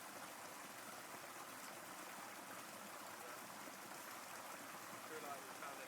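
River water flowing steadily through a jungle, a continuous broadband rush at constant level throughout, close and unbroken with no talk over it.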